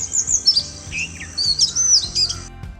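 A bird sings a string of bright, high chirps and warbling notes, clear and close, repeating in short phrases over a low background rumble.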